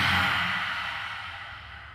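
A single forceful open-mouthed exhale in lion's-breath yoga style, a loud breathy whoosh close up that fades steadily over two seconds.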